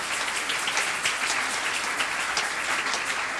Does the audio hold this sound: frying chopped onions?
no